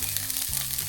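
Garlic hits hot oil in a pan for buttered tiger prawns, and a dense, steady sizzle fills the short moment, close and fairly loud with no voices.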